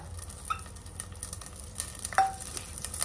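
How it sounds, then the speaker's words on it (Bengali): Onion, ginger, garlic and cumin fry in hot oil with a light, crackling sizzle, soft spatters and a sharper clink of a utensil against the pan, close and unaccompanied by voices. "তেলের মধ্যে পেঁয়াজ, আদা, রসুন, সামান্য জিরা"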